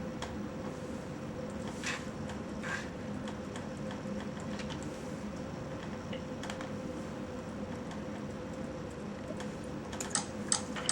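A PIN is typed on a computer keyboard, giving soft, sparse keystrokes scattered over a constant machine hum, closing with a small quick cluster of taps near the end.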